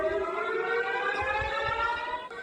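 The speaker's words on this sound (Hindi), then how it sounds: "अचानक से फिर बाद में सायरन बजता है" An air raid siren sounds in Israel, a steady, loud wailing civil defense tone with layered harmonics that holds a sustained pitch from start to finish, heard alone without voices.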